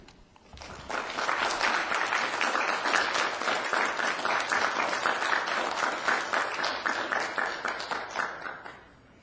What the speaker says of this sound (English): We could please quiet down the applause.